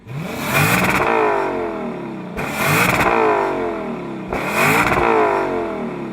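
A 2021 Lexus LC500 Convertible's naturally aspirated engine revs hard three times in a row, each rise climbing steeply then dropping back, loud and close with no voices.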